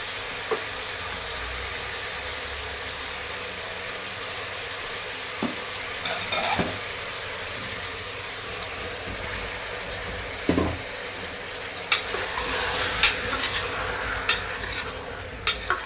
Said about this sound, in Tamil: நல்லா வதக்கி விட்டுக்கணும்